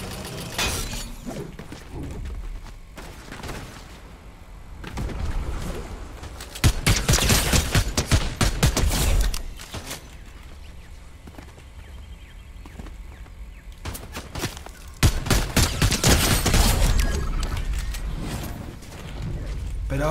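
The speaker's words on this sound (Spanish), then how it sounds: "¿Quién me ha disparado?" Fortnite gunfire in bursts of rapid crackling shots and clattering mechanical impacts, loud and dense at two separate moments with quieter game sounds between.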